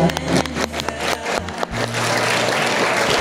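A crowd at a school gathering breaks into steady applause after a few knocking, tonal sounds, the clapping settling into a dense, even wash of many hands.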